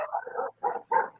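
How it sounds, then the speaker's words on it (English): Dogs bark three times in quick succession, close and fairly loud, with short gaps between the barks. "Now the dogs are barking."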